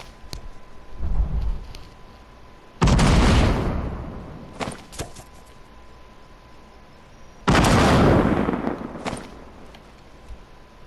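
Two loud clinger grenade blasts from the video game Fortnite, each a sudden booming burst that rolls off over a couple of seconds, separated by quieter game ambience with small clicks and thuds between them.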